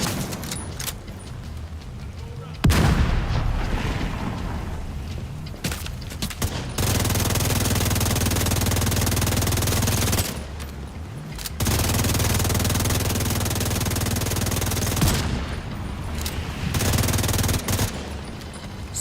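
Gunfire in The Division 2: long sustained bursts of automatic fire alternate with short pauses, loud and close, with sharp single shots and booms between them and no talk over it.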